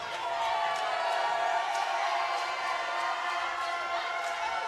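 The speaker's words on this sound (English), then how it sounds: "Crowd making noise" Steady crowd murmur and chatter fills a gym at a Dillard versus Xavier women's basketball game, a continuous moderate wash of voices with faint ball bounces and squeaks.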